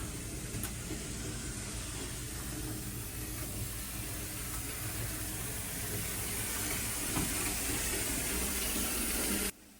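Water gushes steadily from a tap into a bathtub in a cruise ship suite, a constant close hiss that runs unbroken for several seconds and then cuts off abruptly at the end.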